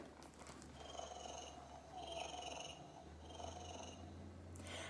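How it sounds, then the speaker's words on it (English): A cat purrs steadily and close up, a soft continuous rumble with faint background noise throughout. "How the cat purred"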